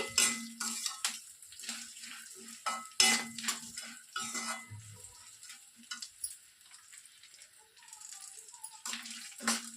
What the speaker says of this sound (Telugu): ఇప్పుడు బాగా కలిపేసేసి